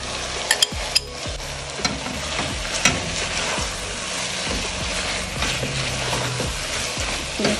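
Marinated prawns go into frying tomatoes for a prawn biryani, with a loud, steady sizzle throughout and repeated sharp scrapes and clacks of a spoon stirring in the pan, with no voice over it.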